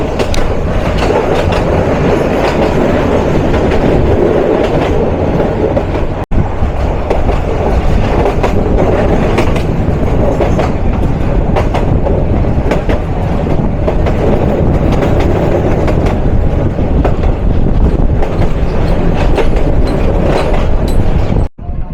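A commuter train runs on the rails between Jamalpur and Dewanganj, making a loud continuous rumble with rhythmic clickety-clack of wheels over rail joints, heard up close from on board.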